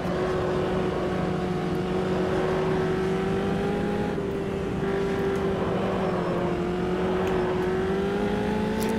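F3 race car in the sim game Automobilista 2, a steady loud engine drone with a sustained whining tone that rises and dips slightly as the car is driven continuously.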